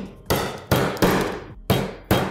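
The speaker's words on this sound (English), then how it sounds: "Do you have any ideas on how to break this quicker?" A hammer drives a chisel to break a piece of graphite in a drawing studio: five sharp, close, ringing strikes in an uneven rhythm, each with a short metallic decay.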